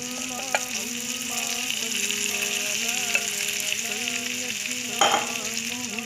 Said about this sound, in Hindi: अब हम इसमें अंडे का जो मिक्सचर है वो ऐड करेंगे।